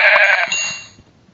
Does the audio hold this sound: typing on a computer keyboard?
no